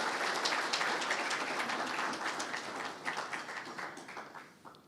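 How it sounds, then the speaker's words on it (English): Sustained applause from an audience at an architecture awards ceremony for the chief guest, dense steady clapping that thins and fades toward the end. "Please, another round of applause for our chief guest."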